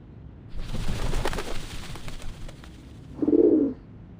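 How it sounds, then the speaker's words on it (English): In the video game Reverse: 1999, a dove gives a soft, low coo near the end, following a rustling, fluttering stretch, with no talking. "The doves of the Whitestone House are here."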